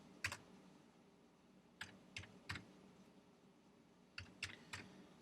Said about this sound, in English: we're going to just type in the ISBN